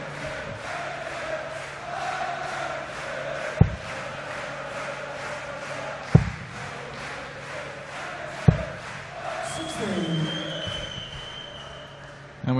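A steady crowd din at a darts match, the European Darts Grand Prix final between Mervyn King and Michael Smith, rumbling beneath a commentator's voice and broken by three sharp thuds.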